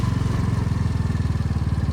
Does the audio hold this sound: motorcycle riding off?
yes